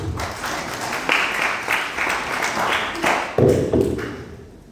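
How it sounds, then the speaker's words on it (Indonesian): Applause from a church congregation during a worship service, a steady wash of clapping with a few louder bursts, fairly close and filling the room before fading toward the end. "Tepuk tangan untuk Tuhan."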